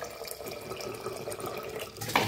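Water poured into a pressure cooker of beans, a steady splashing stream running throughout, close and fairly quiet, with a brief clink at the end.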